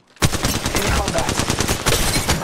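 Rapid automatic gunfire in the battle royale shooter Apex Legends during a ranked match, a dense, loud burst of shots that continues without a break.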